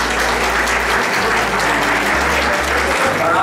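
An audience at a mushaira poetry gathering applauds, a dense, loud, continuous wash of clapping from many hands filling the hall.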